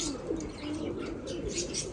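Perched homing pigeons coo continuously in overlapping low, throaty calls, with occasional higher chirps over a steady background.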